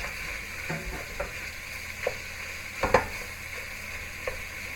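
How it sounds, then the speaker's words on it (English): Ground sirloin browning in a pan for biker chili, a steady sizzle beneath intermittent scraping and chopping strokes from a utensil, with a few louder clanks near the middle. "We'll put that in there, we'll chop that all up and brown that."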